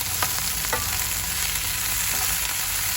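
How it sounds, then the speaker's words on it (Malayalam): Chili, onion, coconut and garlic sauté in a hot pan, a loud steady sizzle with occasional stirring scrapes, close and continuous with no talking. "പാൻ ഒന്ന് ചൂടായതിന് ശേഷം മുളക് സവാള തേങ്ങ അരിഞ്ഞത് വെളുത്തുള്ളി അരിഞ്ഞത് എന്നിവ ഇട്ട് ജസ്റ്റ് ഒന്ന് വഴറ്റിയെടുക്കുക"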